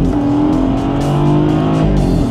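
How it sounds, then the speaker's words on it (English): BMW 1.5-litre three-cylinder TwinTurbo prototype engine revving loudly and continuously, its pitch rising and falling across the short stretch with a steady, close engine drone and no talk. "if you make the sound in the right way from the 3-cylinder, you can do it like a 6-cylinder"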